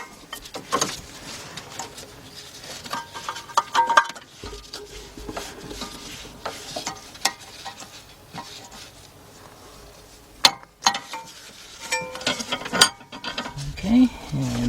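Ratchet wrench working a bolt on the bank 1 left catalytic converter of a 2001 Chevy Tracker 2.5, with scattered metallic clicks and clanks in irregular bursts, close by and moderately quiet, with no talk.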